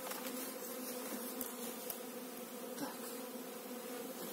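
Honey bees of a local strain buzz steadily around an open beehive during colony merging, a continuous mid-level drone of many wings with occasional closer passes, no talk.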